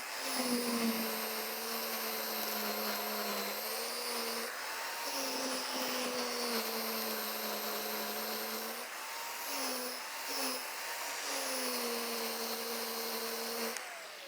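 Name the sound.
20-inch Yardworks reel mower cutting lawn on lowest setting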